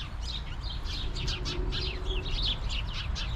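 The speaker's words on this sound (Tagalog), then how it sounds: "daming mga ibon mga idol oh" Small birds chirping and tweeting while hidden in bushes during snowfall in Poland: quick, high twitters repeat through the clip at moderate distance over a steady low outdoor rumble.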